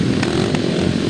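Grasstrack racing solo motorcycles at an international meeting rev their engines together in a steady, loud, continuous drone as the race starts, with no talk over it.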